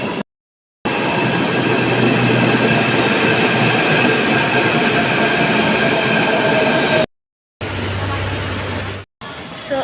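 Delhi Metro train running through a station, a loud steady rumble with rising whine that drops out briefly around seven seconds, then resumes shorter before a final gap; no speech.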